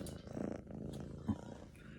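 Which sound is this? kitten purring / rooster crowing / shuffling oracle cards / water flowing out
kitten purring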